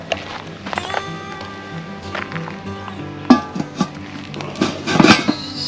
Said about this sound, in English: I'll put the lid on it.